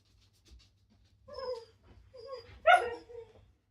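A pet dog whines and whimpers in short, high, wavering cries, rising to a louder yelp near the end, close by with no one talking.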